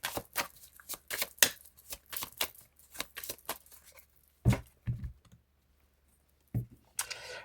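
Tarot cards shuffled then cut by hand, a quick run of crisp riffling clicks and slaps, then a pause and a couple of isolated taps, close and fairly quiet.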